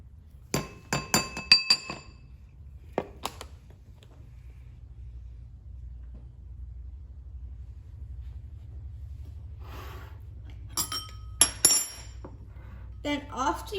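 A spoon clinks against a glass bowl while flour and other dry ingredients for a chocolate microwave mud pie are mixed, sharp ringing taps in quick clusters at the start and near the end, with quiet stirring and low room hum between.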